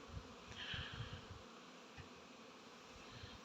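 Honey bees buzz outside their hives on a mild 14-degree January day during a winter cleansing flight, a steady faint hum with passing insects drifting close, heard alone.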